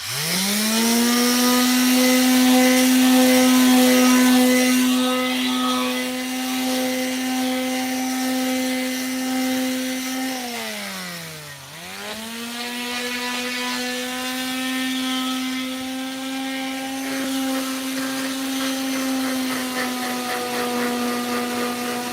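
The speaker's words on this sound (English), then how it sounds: "let me sand this other end here" Power sander working a boat deck lid, a loud, steady motor whine close by that droops briefly midway as the tool is pressed or shifted, then holds steady again for over twenty seconds, no talking.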